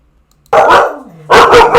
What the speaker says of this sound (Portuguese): quando os cachorros começam a latir, eu tenho que parar